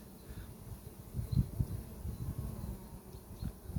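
Honey bees buzz around an open hive during a colony inspection, a low, steady hum with swelling bursts as insects pass close, faint and alone without voices.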